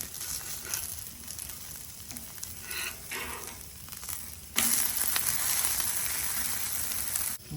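A wheat dosa fries in oil on a pan with a steady crackling sizzle, close and moderate at first, then jumping louder and brighter partway through and holding there.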